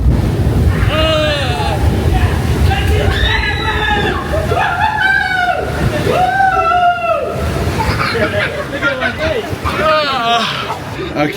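Riders scream and shout as a Splash Mountain log flume at Tokyo Disneyland plunges into water, with loud sloshing and crowd babble filling the scene from close range.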